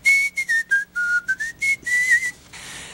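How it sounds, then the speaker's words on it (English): A person whistles a simple melodic tune in a children's TV story, a series of short clear notes with brief gaps between them, close and alone with no talk. "And whistle."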